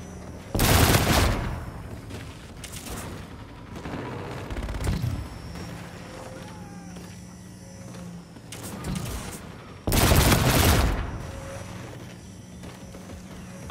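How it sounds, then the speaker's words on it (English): In Call of Duty: Infinite Warfare, an airstrike gun run fires in bursts: a loud volley at the start, scattered mid-level impacts and rumbles, then another heavy burst near the end, with faint game effects between. "Roger, inbound for gun run. Shots out, shots out."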